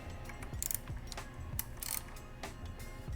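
A ratchet breaks loose 4mm hex bolts on an RSV4 motorcycle rearset, giving a steady run of close, crisp pawl clicks in short bursts with no talk.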